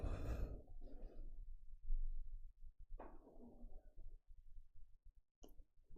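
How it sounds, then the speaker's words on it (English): A person exhales audibly during a slow stretching exercise, one long soft breath followed by quieter breathing sounds and a brief second exhale, close and alone with no talk. "Release your breath."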